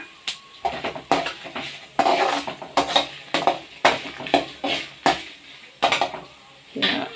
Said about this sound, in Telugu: ఎండుమిరపకాయలు బాగా వేగాలి.